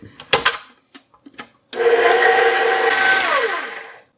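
Cheesecake filling is mixed as a few bowl clinks and knocks give way to a loud electric mixer. The mixer whirs steadily for about two seconds, dips slightly in pitch, then winds down.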